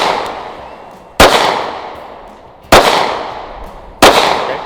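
A handgun is fired at a shooting range, three loud sharp shots spaced about one and a half seconds apart, each trailing off with echo.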